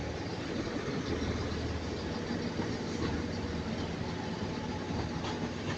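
A Class 150 diesel multiple unit pulling into Manchester Piccadilly, a steady rumbling engine drone with faint wheel noise on the rails, continuous and fairly close, with no talk over it.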